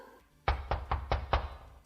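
Five firm knocks on a door in a quick, even series, close and distinct against a quiet background.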